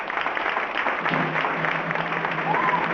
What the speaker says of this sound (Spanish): Les pido un aplauso también para ellos